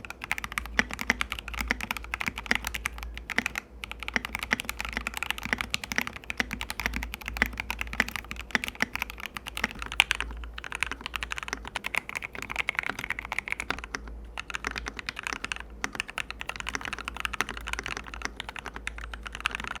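Continuous rapid typing on an Epomaker TH66 mechanical keyboard fitted with lubed switches and different keycaps, a steady stream of soft, muted clacks heard up close with no talking.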